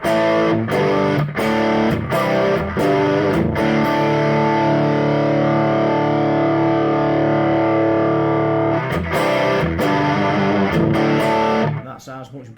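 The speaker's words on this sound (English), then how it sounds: "There's some blocking distortion going on there or something." A Burman Pro 501 one-by-twelve hand-wired boutique guitar combo amp with too much gain, played through blocking distortion: loud, sustained fuzzy chords struck in a steady rhythm, with a long held chord in the middle and a brief cutoff at the end.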